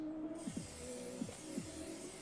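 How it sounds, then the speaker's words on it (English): Canola oil non-stick spray hisses into a cast iron pan: after a short quiet start, one steady, soft spritz runs on with faint mechanical ticks underneath. "Give it a quick spritz with some canola oil"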